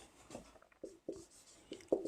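Quiet scratchy pen or marker strokes in short bursts and taps as a maths limits lecture solution is written out, close and faint with brief pauses between strokes.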